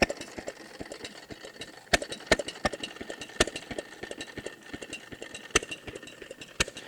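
A 90-year-old lawn mower engine runs unevenly nearby, chugging and rattling, with sharp irregular firing beats as the governor lets it fire and skip, and no one speaks.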